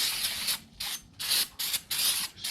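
Brake cleaner sprayed in four or five short, loud hissing bursts onto the brake rotor of a 2015 Mercedes CLA 250, each burst separated by brief pauses, heard up close with no talking.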